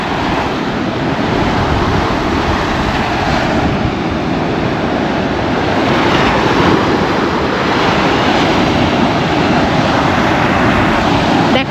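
Ocean surf breaking steadily on the beach at Robert Moses State Park on Fire Island, Long Island: a loud, continuous wash of waves with wind buffeting the microphone throughout, no voices.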